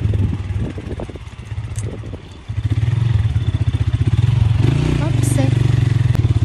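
Motorcycle ride on a muddy road, the mid-pitched engine droning steadily and close, rising louder after a brief dip, with a person speaking over it.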